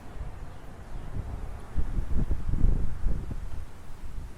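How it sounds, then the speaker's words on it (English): Wind buffets the microphone in a low, rumbling roar that swells and gusts, growing stronger partway through, with no voices. "It's very windy, and I just realized my mic is probably picking that up"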